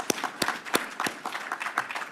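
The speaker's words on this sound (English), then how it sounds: "So another round of applause for them," An audience applauds at a police academy graduation ceremony: scattered, fairly faint hand claps in an irregular patter, with a few sharper claps standing out over a low room hum.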